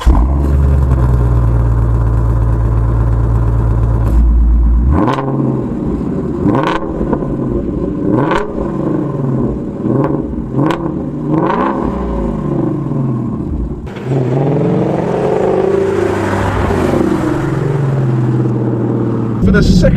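A Shelby GT350 Mustang engine revs with rising and falling swells, building in several surges over a steady low rumble, loud and close, with a broader roaring burst near the end.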